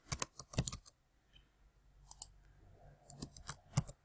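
Someone types a password on a computer keyboard in short, quick bursts of crisp key clicks separated by quiet pauses, close and fairly soft.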